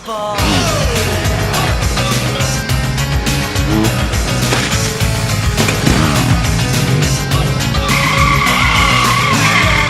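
A BMW R 1200 GS flat-twin motorcycle roars loudly close by, its engine note climbing and changing pitch repeatedly as it accelerates hard, with a brief tyre-scrub sound at moments.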